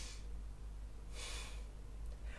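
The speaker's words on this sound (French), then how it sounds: "Le souffle au niveau des narines. C'est une respiration sonore." Audible yogic breathing drawn through the nostrils during a late-winter yoga practice, soft airy rushes of breath rising in two or three slow waves over a quiet background.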